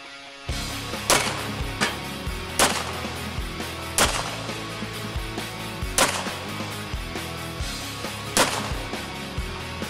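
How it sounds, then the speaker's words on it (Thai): Five or so sharp gunshots ring out at even intervals during night combat shooting practice, loud and close, each a crisp crack over a steady low background rumble. "เป้าหมายตรงหน้ายิงภายใต้แสงจันทร์ภายใต้ความมืด5นัด"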